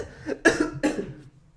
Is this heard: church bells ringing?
no